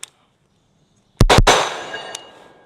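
Two sharp, loud gunshots fired in quick succession from a Scorpion pistol-caliber carbine, with a trailing echo, followed by a fainter clack, all after a near-silent pause and with no voices.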